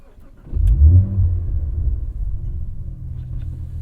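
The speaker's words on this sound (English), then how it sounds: "Racy sounding engine." A Cadillac CT4-V Blackwing engine fires up and revs loudly, then settles into a deep, steady idle rumble close by.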